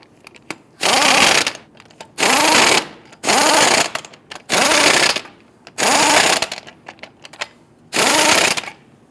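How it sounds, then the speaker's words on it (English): An impact wrench snugs lug nuts onto a Toyota Tundra wheel in six loud, even bursts of about a second each, separated by short pauses, with no talking. "we'll go ahead and snug them down"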